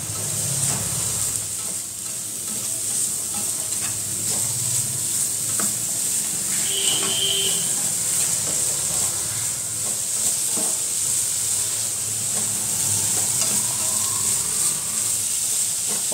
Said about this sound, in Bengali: পটল ভাজা ভাজা গন্ধ বেরোচ্ছে